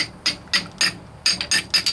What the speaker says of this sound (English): I'm just hammering here like so,